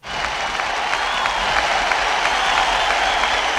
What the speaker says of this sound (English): like another hand clap